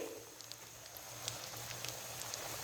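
KFC-style chicken wings frying in hot oil over a low flame give a steady, soft hissing sizzle with scattered small pops, heard alone.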